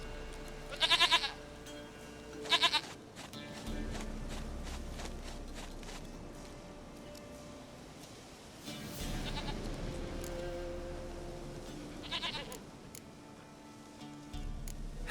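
A goat bleats in the video game The Witcher 3: two short, loud bleats close together near the start and a third much later, with quieter footsteps and ambient background between them.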